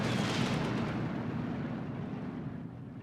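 Heavy 150mm artillery pounding a forest in Steel Division 2, a thick booming roar of impacts that starts loud and slowly fades into a lingering low rumble.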